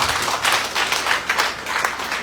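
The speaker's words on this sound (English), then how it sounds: "So let's clap for ourselves." An audience at a nurses and midwives gathering claps steadily, dense hand claps rising and falling in waves at moderate volume.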